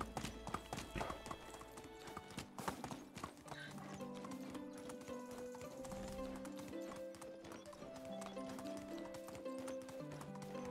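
Hooves clip-clop steadily as a donkey travels in the medieval farming game Medieval Dynasty, a continuous rhythmic trot with a neigh-like call, mixed with game background sounds and no talk.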